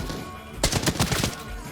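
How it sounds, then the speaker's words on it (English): A quick burst of rapid gunshots rings out in an extraction shooter video game, a short volley of sharp cracks over a quiet background with no voices. "Oh, there's some gunfire."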